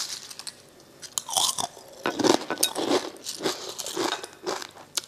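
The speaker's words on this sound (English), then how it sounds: "That crunch wakes me up, makes me feel alive." Someone crunches a mouthful of Kellogg's cornflakes soaked in orange juice, close and loud, with repeated crisp bites and chewing in an uneven rhythm, alone without any talking.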